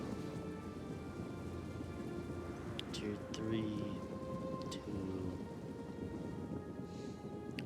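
Steady rain pours through a battle scene in the Total War: Attila Dawnless Days mod, a constant wash with a few distant thunder-like swells, while a voice talks over it.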